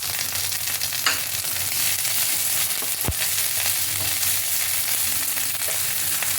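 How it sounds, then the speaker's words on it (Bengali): Pre-boiled corn sautés in a pan with hot oil for a chilli cheese corn snack, making a continuous close sizzle with light stirring scrapes and one sharp knock near the middle. "এগুলোকে সতে করে নেওয়ার পর এর মধ্যে আমি দিয়ে দিচ্ছি কর্নটাকে আমি আগে থেকে বয়েল করে নিয়েছিলাম।"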